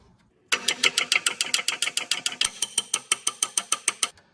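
A gear is driven into a motorcycle crankcase during lower-shaft assembly, making a rapid series of about twenty sharp metallic taps in a steady rhythm, loud and close, with no talking.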